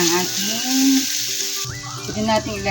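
Sliced onions sauté in a pan for pork igado, a close, loud sizzle that surges as marinated pork goes in, with stirring and a voice speaking over it.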